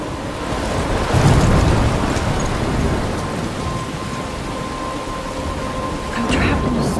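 A steady thunderstorm roars in the video game Life Is Strange, heavy rain hissing continuously with low rumbles of thunder swelling near the start and again near the end, loud and unbroken throughout.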